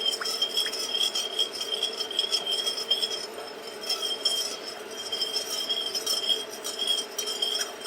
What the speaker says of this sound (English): Now just stir it around until it melts, like so.